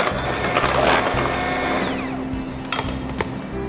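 An electric mixer beating marble cake batter whirs steadily and loudly on its own, with a slight shift in pitch partway through.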